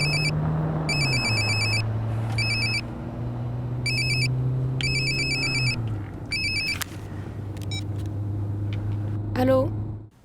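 A telephone rings in repeated electronic bursts, about four clear rings spaced roughly a second apart, over a steady low engine-like drone and rumble, with a brief rising tone near the end.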